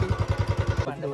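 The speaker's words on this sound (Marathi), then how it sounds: "बाईक आहे ना." A motorbike engine idles close by with a steady, pulsing putter that stops abruptly.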